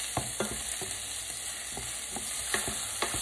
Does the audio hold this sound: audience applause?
no